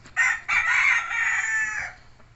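A white Kelso gamecock on a breeding farm crows once, loud and close, a long drawn-out call with a brief break near the start, standing alone with no talk over it.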